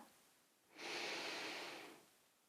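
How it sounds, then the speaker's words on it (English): A single slow, deep breath during a yoga session, soft and close, rising and fading over about a second amid quiet surroundings. "And just breathe."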